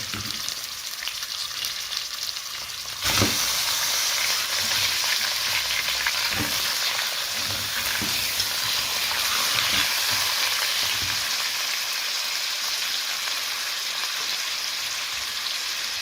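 Chicken goes into a hot pot with cardamom and whole spices for mandi rice, and a loud, steady sizzle and crackle erupts suddenly and continues evenly close by without speech.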